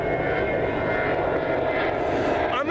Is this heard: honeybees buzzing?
no